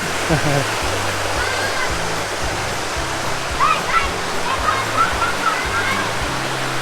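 Waterfall at Tad Kinnaree near Bueng Khong Long, a steady loud rush of falling water filling the whole scene, with bursts of speech over it now and then.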